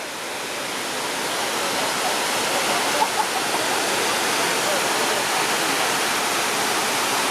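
Water pours steadily into the 9/11 memorial pool in Lower Manhattan, a loud, broad, unbroken rush like a waterfall that fills the whole clip outdoors.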